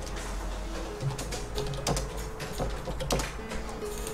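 Number keys and Enter tapped on a computer keyboard during AutoCAD drafting, a run of close, crisp clicks at an uneven rhythm with a few sharper key strikes over a steady background hum, no speech.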